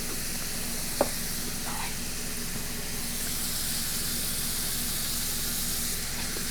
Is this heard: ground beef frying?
yes